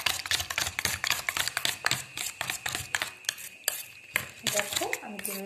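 Omelette eggs are whisked with a fork or spoon in a bowl: a fast, steady run of close, bright clinks that pauses briefly partway through and then starts again.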